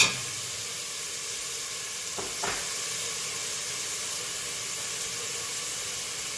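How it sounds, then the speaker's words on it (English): Jerk chicken with freshly added tomatoes sautés in a pan, giving a steady, close, loud sizzle and hiss throughout with a couple of faint stirring knocks. "And just give it a stir. Let it all saute together."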